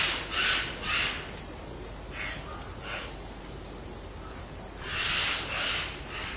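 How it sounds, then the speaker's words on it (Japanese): Lidth's jays in the Amami Oshima forest giving harsh, screeching calls, mostly in paired bursts at the start and end, moderately distant against a steady background hiss. "ャーギャーと鳴くのは、世界で奄美大島にしかいないルリカケス。"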